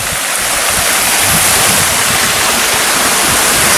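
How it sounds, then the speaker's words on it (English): A small waterfall pours steadily, a constant broad rushing and splashing of water close by with no other sounds. "It starts with this little waterfall."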